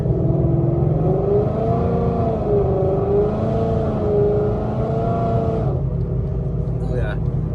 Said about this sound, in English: So that's just 5th gear under a little bit of throttle, just like to like change lanes or whatever.